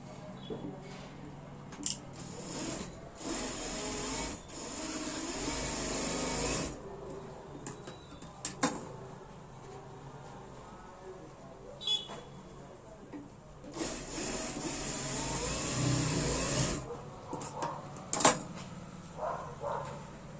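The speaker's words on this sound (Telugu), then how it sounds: "ఇప్పుడు నేను ఈ డాట్స్ అనేది స్టిచ్ చేస్తున్నాను" A sewing machine stitches dots on the front part of a blouse, whirring in two long bursts of several seconds each, separated by quiet handling noises and occasional clicks, with a voice speaking faintly.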